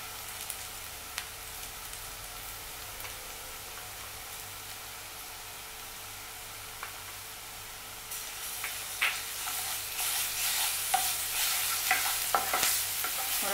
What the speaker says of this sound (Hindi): अदरक लहसुन की पेस्ट और प्याज को अच्छे से मिक्स कीजिए।